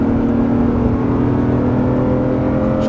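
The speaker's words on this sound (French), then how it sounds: "La voiture avance, prend de la vitesse avec une facilité déconcertante" Porsche 911 R accelerating on a bumpy road, a steady loud engine drone with a constant low hum and road rumble running throughout, heard close from inside the car with no talking.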